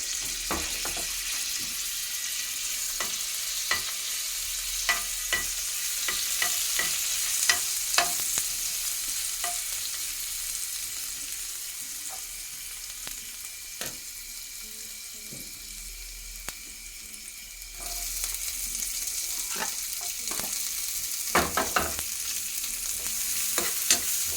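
Ginger and garlic frying and being stirred in a pan, a steady close sizzle with scattered scraping and clinking of a utensil against the pan throughout.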